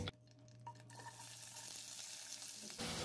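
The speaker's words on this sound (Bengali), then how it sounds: "নেড়েচেড়ে ফ্রাই করে নিচ্ছি।" Five small chopped onions tossed into hot oil in a pan and stirred, a quiet start that turns into a steady sizzle and hiss, with soft stirring sounds and no voices.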